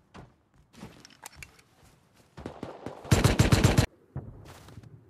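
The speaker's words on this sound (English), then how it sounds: "Esa AK que me dispara, bro." Rapid automatic AK rifle fire in the survival video game Rust rattles in several bursts, with one loud sustained volley in the middle amid scattered shorter shots and thuds.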